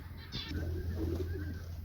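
A pigeon coos softly nearby, a short low throaty call, with a faint higher chirp near the start.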